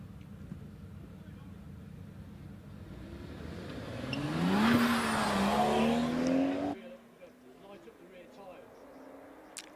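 A standard road car accelerates up the Shelsley Walsh hill climb, its engine note rising and swelling as it passes, then cutting off abruptly, with a commentator talking throughout.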